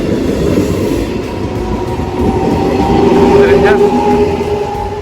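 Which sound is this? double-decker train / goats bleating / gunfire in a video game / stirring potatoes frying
double-decker train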